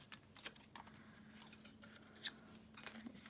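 Scissors cut a small piece of card for a Christmas card, a handful of soft, close snips and clicks in a quiet room.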